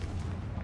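A Confringo fire spell in the Hogwarts Legacy video game bursts as a short, deep boom, lasting under a second and dominated by low rumble.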